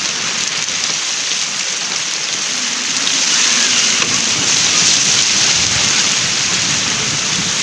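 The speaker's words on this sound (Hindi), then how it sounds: "बारिश बहुत ज़्यादा है, बहुत ज़्यादा।" Heavy rain pours down outdoors in a dense, steady hiss that thickens and grows louder partway through, with no voices over it.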